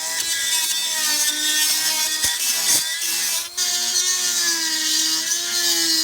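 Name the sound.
power tools removing corroded fasteners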